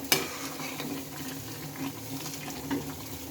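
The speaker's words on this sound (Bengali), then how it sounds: "পাঁচ মিনিট সাত মিনিট পর পর এটাকে নেড়ে নিতে হবে" Mutton curry cooking in a wok, a low simmering sizzle with a sharp clack of the spoon at the start and a few soft stirring scrapes afterward.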